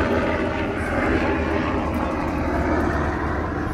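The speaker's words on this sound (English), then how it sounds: "here we have a Nighthawk helicopter as it flies" A low, broad rotor roar from a military Nighthawk helicopter passing overhead in San Diego harbour, steady and fairly loud throughout.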